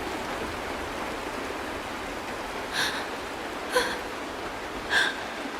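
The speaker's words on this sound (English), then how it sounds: "They really did summon the rain." Steady hiss of rain pours down in the Honkai Star Rail video game, a continuous wash of falling water broken by three brief, brighter splashy bursts toward the end, with no voices.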